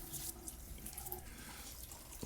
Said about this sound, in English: We're going to switch this to scalding cold or ice cold water here and rinse this off our face here.